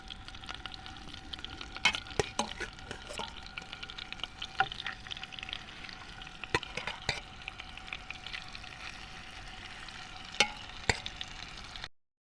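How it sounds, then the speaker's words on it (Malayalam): Chicken pieces frying in butter in a pan, a steady broadband sizzle with scattered sharp pops and crackles running throughout, close and fairly quiet with no talking. "ഓരോ പീസ് ചിക്കൻ എടുത്ത് നമുക്ക് ഇതിലേക്ക് ഫ്രൈ ചെയ്യാൻ വേണ്ടി ഇട്ട് കൊടുക്കാം."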